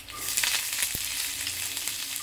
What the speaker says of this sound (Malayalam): വെളിച്ചെണ്ണ ഒഴിച്ച് കടുക് ഇതേ പൊട്ടിത്തിളങ്ങിയിട്ടുണ്ട്